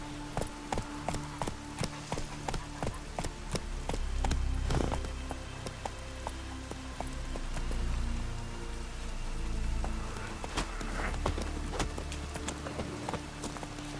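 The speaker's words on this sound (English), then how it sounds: "It's raining." Steady rain patters on surfaces with scattered drips in The Witcher 3: Wild Hunt, accompanied by a rhythmic clip-clop of hooves and low ambient rumble; no talking.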